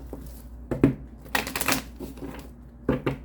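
Papery riffling and soft slaps of tarot cards being shuffled close up, in a few separate bursts with quiet gaps between.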